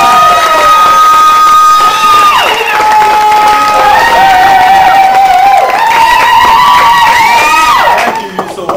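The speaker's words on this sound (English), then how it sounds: "let's applaud this artist and also cheer as she turned 25" Fashion show crowd cheers and shouts loudly with whoops, a strong sustained roar dominated by voices with some applause mixed in, staying loud throughout.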